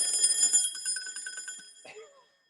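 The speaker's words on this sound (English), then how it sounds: "maybe in a few minutes the alarm will ring, though I'm not sure that it works" A mechanical alarm clock rings with a rapid, continuous metallic clatter for about two seconds, then cuts off and fades to silence, heard nearby in a quiet room.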